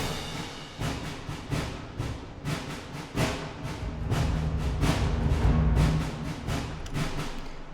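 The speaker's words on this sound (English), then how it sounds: "it's just really snare and bass drum through this main part" MIDI orchestral percussion with a snare pattern, cymbal crashes, bass drum and a timpani roll, in a Dumbledore vs. Voldemort battle score; dense, steady hits that swell louder toward the middle, no voices.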